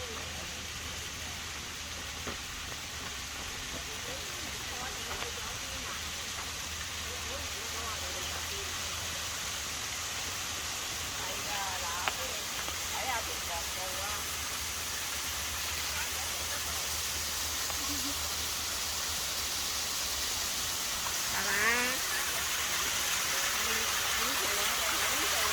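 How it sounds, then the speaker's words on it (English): Steady broadband rush of a waterfall on a Hong Kong peak fills the whole stretch, with faint footsteps and movement sounds on top and occasional brief voices in the distance. "This is the only waterfall on the peak."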